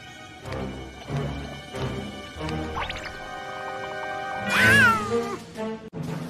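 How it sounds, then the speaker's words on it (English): A cat meows several times up close, ending in a longer, rising drawn-out yowl. "Meow, said the cat."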